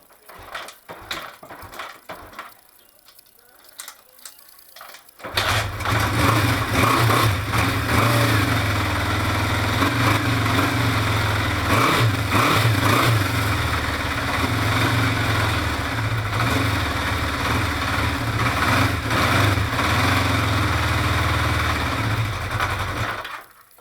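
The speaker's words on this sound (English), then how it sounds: "The battery is a bit low, so I'm gonna kick it. It usually starts very well, 2 times kicking, and then ignition on," A 1973 Honda CB500 Four motorcycle with a low battery and one cylinder apparently missing is kicked over, then fires and settles into a loud, close, steady idle with a slightly uneven beat.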